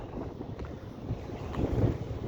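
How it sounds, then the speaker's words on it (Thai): Strong wind rushes and buffets steadily past the microphone outdoors at a flying field for a one-meter-wingspan RC sport plane, a rough low roar that swells slightly toward the end. "นี่ครับลมแรงนะครับ"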